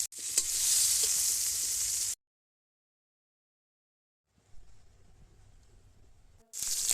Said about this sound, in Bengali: ঘুগলিগুলোকে সামান্য একটু তেল দিয়ে আলুগুলোকে ভেজে নিলাম।